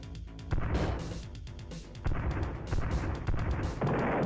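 Heavy cannon blasts from a Druuge ship in Star Control II, a few booming shots spaced a second or two apart, each with a deep thudding hit and rumbling tail.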